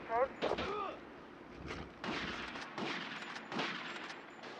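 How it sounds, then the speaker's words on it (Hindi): Gunfire in a video game fight from a boat on water: several sharp bursts of shots spread across a few seconds, mixed with game noise and someone talking excitedly. "टॉमी, गन चला।"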